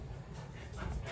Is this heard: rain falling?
no